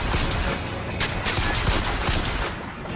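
Rapid machine gun fire in Bioshock Infinite, a loud continuous stream of close, sharp shots with no talking over it.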